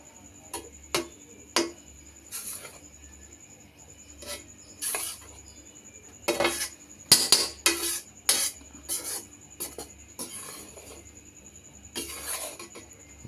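Wheat flour frying in ghee for gulab jamun as a spoon scrapes and clinks around the pan in irregular bursts, with a quiet sizzle underneath and no speech.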